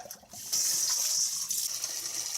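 Tap water gushes into a bowl in a steady, close, splashing stream while making andouille sausage, starting softly and then running at full flow.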